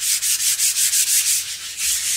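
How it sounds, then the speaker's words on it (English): Sanding disc grinding steadily over a rock-lawn painting surface, a close, loud abrasive rasp pulsing in rapid regular strokes, heard alone without voices. "lost the sanding disc"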